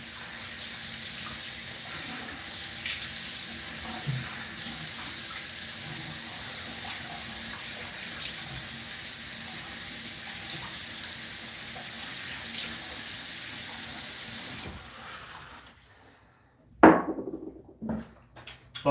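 Tap water runs steadily into a sink for about fifteen seconds, then cuts off, followed by a few brief, close splashes of water onto a face in a quiet room.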